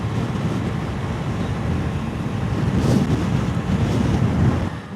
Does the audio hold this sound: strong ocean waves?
yes